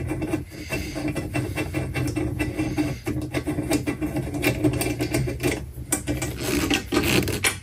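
Steady grinding, rasping noise of a screw being threaded into thin metal, continuous and close with irregular scraping pulses throughout.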